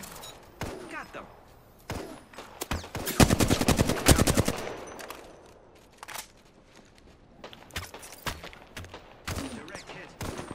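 Gunfire in the video game Apex Legends: a dense rapid-fire burst in the middle, flanked by scattered single shots and sharp thuds, loud and close against a quieter background.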